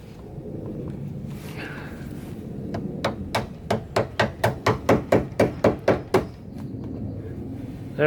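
A rapid run of about a dozen sharp hammer taps drives a fastener into a Ford Contour SE rocker panel cover, the blows evenly spaced and close, with low background rumble before and after.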